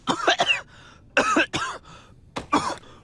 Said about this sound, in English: Guess I'll just go back to coughing.